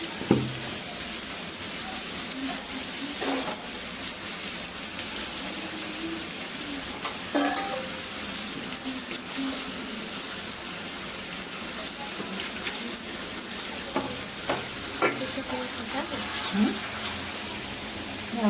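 Marinated chicken pieces sizzle in a pan with steady frying hiss, broken by occasional clinks and scrapes of stirring, while a voice speaks faintly now and then.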